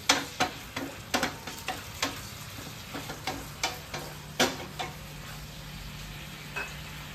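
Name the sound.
paneer pieces frying for paneer 65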